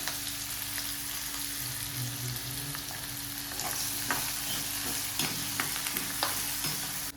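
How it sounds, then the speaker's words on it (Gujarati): Onions and chillies fry in a pan at home with a steady, close sizzle and occasional soft stirring scrapes and clicks, heard alone without talk. "ડુંગળી નાખશું આપણે ડુંગળી સરસ મજાની ફ્રાય થવા દઈશું"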